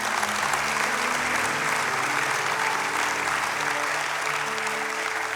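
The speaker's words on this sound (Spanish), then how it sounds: "Dale un fuerte aplauso." A church congregation gives loud, sustained applause, dense continuous clapping that fills the room evenly from start to finish.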